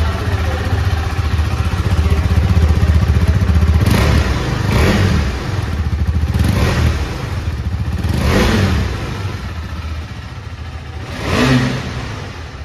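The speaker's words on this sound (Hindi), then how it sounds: "अब मैं आपके बाइक को ऑन करके इसका एग्जॉस्ट नोट सुना देता हूँ कि कैसा एग्जॉस्ट का साउंड है" A KTM Adventure X 390 motorcycle idles close by with a throaty exhaust, blipped into several sharp revs that rise and fall between steady idling stretches.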